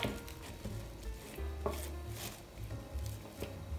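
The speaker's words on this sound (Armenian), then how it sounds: "այսպես զգուշորեն խառնում ենք։" Carrot, cabbage and greens salad gently mixed in a bowl, giving a steady soft rustling and scraping with light rhythmic knocks, close and continuous.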